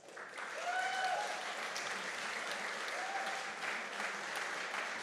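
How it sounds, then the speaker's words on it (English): An audience at an entrepreneurship innovation challenge final gives a sustained round of applause, dense and even throughout, with faint voices and whistles in the mix. "Can I have a roaring round of applause for Dean Haas?"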